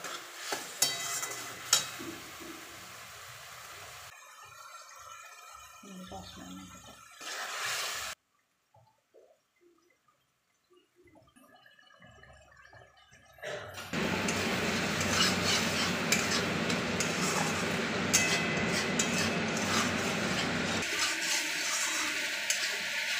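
Ginger, cumin, coriander, turmeric and tomato frying and being stirred in a pan for aloo dum, with scraping and bubbling at first, a near-silent gap, then a loud, steady sizzle through the second half.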